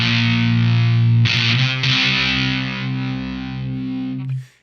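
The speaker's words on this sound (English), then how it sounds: "But watch just when I hit a power chord." Electric guitar power chord through an LSL Moon City fuzz pedal, struck once and left ringing, then re-struck after about a second and sustained loud and thick with a slight sag before being cut off near the end.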